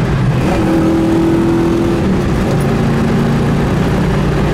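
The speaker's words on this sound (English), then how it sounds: "You can feel that engine just torquing just a little bit." A car engine pulls steadily on the road under light throttle, a loud continuous drone with a sustained rising tone as it accelerates and torques, then settling lower, close and without speech.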